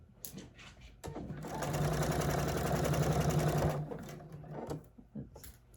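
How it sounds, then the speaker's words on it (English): A sewing machine runs steadily for about three seconds, stitching a quilt project with a dense mechanical whir, framed by softer handling noises before and after. "I've got my machine started, needle in the down position, and we're going to start sewing this up."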